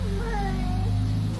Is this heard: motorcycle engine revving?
no